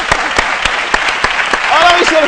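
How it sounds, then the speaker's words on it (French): A studio audience claps at a Côte d'Ivoire television midday show, steady close applause lasting a couple of seconds, with a voice or cheer rising near the end. "On applaudit."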